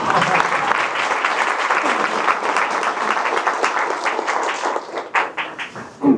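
A meetup audience breaks into sustained applause, a dense crowd clapping that carries on for several seconds and then thins out into scattered claps near the end.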